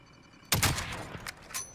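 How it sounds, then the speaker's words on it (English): Gunfire in the battle royale game Call of Duty: Warzone: a sharp broadband report at about half a second, then several fainter shots trailing off across the rest of the clip, with no talking. "They're getting shot at by someone."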